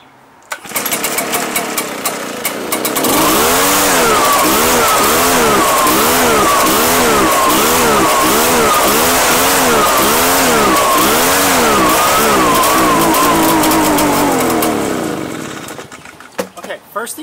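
An Echo PB-755ST backpack blower with stale, funky-smelling fuel runs loud and close, its engine surging and sagging in a repeated wavering rhythm as it struggles under load, then cuts out and dies near the end.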